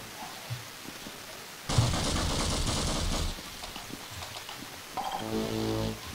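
Automatic weapon gunfire in the Half-Life video game, a sustained loud burst of rapid shots lasting over a second, then a shorter second burst after a pause, over a low quiet background.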